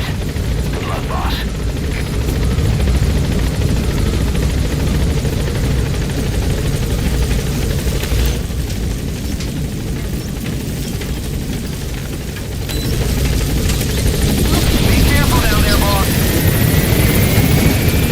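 Helicopter flying in Metal Gear Solid V: The Phantom Pain, a loud, continuous rotor roar and engine drone that holds steady throughout, with faint game sounds mixed in.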